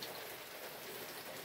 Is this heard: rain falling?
yes